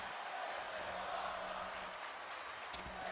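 A wrestling crowd at an independent show fills the space with a steady, dense roar of massed voices chanting, holding a constant level throughout with no clear break in the noise.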